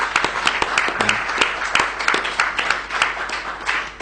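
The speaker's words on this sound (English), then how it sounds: "I'd just like to give them a round of applause for that." A round of applause from an audience at an annual general meeting, a dense run of hand claps lasting several seconds, fairly near and steady, with no voices standing out.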